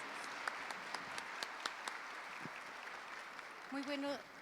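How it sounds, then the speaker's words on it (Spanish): Warm applause from a conference audience welcoming a speaker, a steady patter of many hands with a few sharper claps, fading as a voice begins talking near the end. "Les voy a pedir un cálido aplauso"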